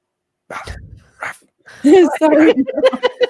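A dog gives a couple of short barks and yips, then a person starts talking over more faint dog sounds.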